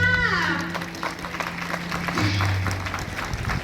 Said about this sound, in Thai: ขอเสียงปรบมืออีกครั้งค่ะ